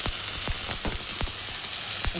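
Ginger garlic paste sizzles as it hits fried onions in a pan, a dense steady hiss broken by frequent sharp crackles and pops, close and loud with no talking.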